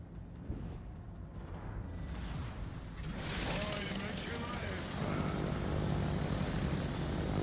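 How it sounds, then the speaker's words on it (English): Carrier aircraft launch in World of Warships, with a Chkalov tier 8 Russian carrier sending planes off its deck: a steady mechanical drone rises into a louder, brighter engine roar partway through and stays loud to the end. "I'll take a screenshot of you launching your planes"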